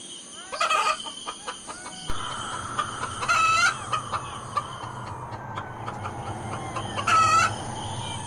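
Chickens in a 3D animated cartoon cluck and call over a steady background hum, with three louder, drawn-out squawking bursts spaced a few seconds apart.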